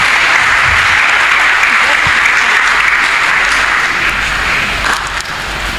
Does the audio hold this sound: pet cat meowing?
no